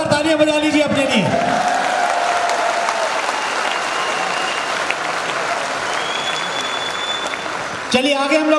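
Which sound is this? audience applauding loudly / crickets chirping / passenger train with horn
audience applauding loudly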